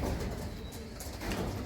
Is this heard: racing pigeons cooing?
yes